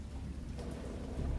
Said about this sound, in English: It's a lot of rain.